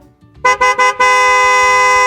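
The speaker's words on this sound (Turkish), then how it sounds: "korna sesini siz de duydunuz mu?" A car horn honks three short times, then holds one long, loud, steady blast.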